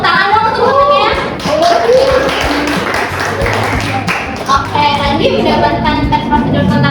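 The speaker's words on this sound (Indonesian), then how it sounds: "Boleh tepuk tangan dong untuk bahannya." Classroom applause in an Indonesian school lesson, a dense patter of clapping from students that runs steadily throughout, with children's voices and chatter mixed over it.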